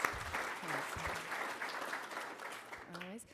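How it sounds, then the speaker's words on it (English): A small audience applauds student volunteers at a conference session, with steady moderate clapping while a voice speaks over it briefly near the start and again at the end. "round of applause for them, their first foray into politics"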